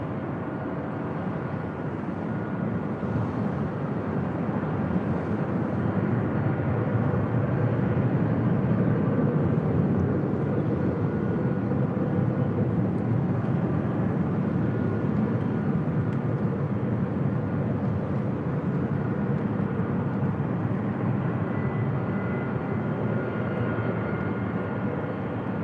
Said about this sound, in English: Cargo Lux 747-8. Next arrival on 24 left.